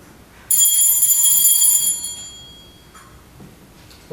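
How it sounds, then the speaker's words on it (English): A single bright bell rings out sharply, its metallic tone lingering and fading over a couple of seconds in a quiet room. "Never saw any use ringing a bell when the door was open."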